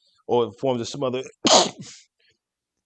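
A single sharp sneeze bursts out right after a stretch of casual conversational talk, close and fairly loud, then quiet follows.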